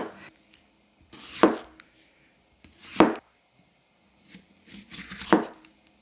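Three separate knife chops through potatoes with a WynterForge Wolfram Ko Bunka, each a crisp thunk onto the board, spaced about a second and a half apart, close and clear with quiet gaps between.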